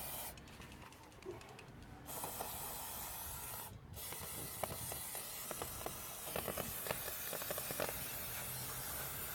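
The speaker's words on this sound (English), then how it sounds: "I'm sure I'm going to get through both cans of this brake cleaner." Brake cleaner sprayed from aerosol cans onto motorcycle parts during Suzuki DL1000 V-Strom chain and sprocket maintenance, a steady loud hiss running for several seconds with brief pauses, crackly drips and clicks, close up.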